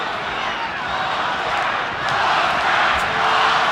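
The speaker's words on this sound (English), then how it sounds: "Crowd already chanting Oscar, Oscar, Oscar" A Las Vegas boxing crowd chants Oscar during the opening round of a Hopkins–De La Hoya fight, a broad, sustained roar of many voices swelling slightly toward the end.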